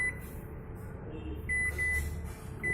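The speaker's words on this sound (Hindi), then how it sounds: "अभी हम माइक्रोवेव को दबाएंगे।" A Lloyd microwave oven's keypad gives a few short, thin electronic beeps as buttons are pressed, sounding over a steady low hum in a small room.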